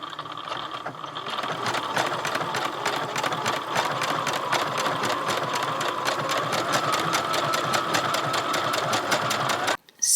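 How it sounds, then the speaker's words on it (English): A sewing machine runs a zigzag stitch along a cardigan seam, a fast, steady mechanical chatter held close and loud for nearly ten seconds before it abruptly stops; no one speaks. "So it's basically a serger that doesn't cut."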